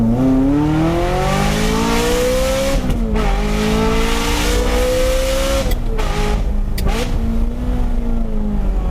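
A Ferrari with straight-pipe exhaust revving hard through rising pitch sweeps, dropping and climbing again between gear shifts, with a raw, raspy exhaust tone throughout.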